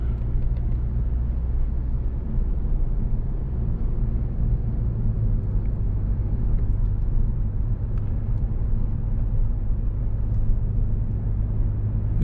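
Steady low road rumble fills the cabin of a 2021 Kia K5 EX on low-profile tires while driving, a constant even drone with no talking.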